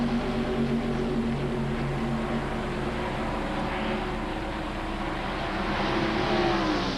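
Stock cars in a 1993 ARCA race at Talladega roar past in a steady, loud, continuous drone of engines with a slight pitch shift near the end, no voices over it.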